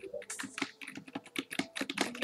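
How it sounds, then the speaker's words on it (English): Fast typing on a computer keyboard during a Roblox game session, close and fairly quiet, a steady irregular patter of clicky keystrokes. "you might hear a lot of sounds of keyboards"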